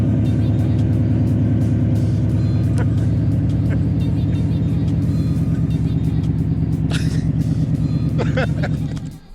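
A 2019 Ford Mustang GT V8 engine with stock exhaust idles and revs with a deep, throaty burble, loud and close, while people talk faintly in the background.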